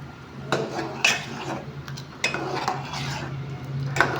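Poori curry is mixed in a pot, with a utensil clinking and scraping against the metal in several close strokes over a low background hiss.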